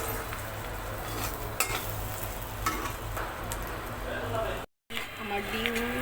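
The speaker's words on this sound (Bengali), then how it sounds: "আমার মাছের ডিমগুলো ভালো করে ভাজা হয়ে গিয়েছে।" Rohu fish roe frying with spices in a pan, a steady broadband sizzle with light stirring and utensil clinks throughout, close and continuous.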